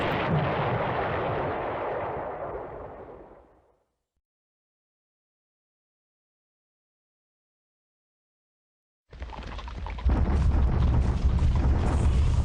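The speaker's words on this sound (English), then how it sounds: "There's the Japanese bombardment, ineffective." Naval bombardment in the strategy game War Plan Orange: a loud rumbling burst that decays over a few seconds, then silence, then another heavy roaring barrage of booms.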